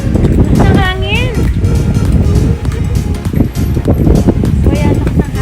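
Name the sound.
strong wind outdoors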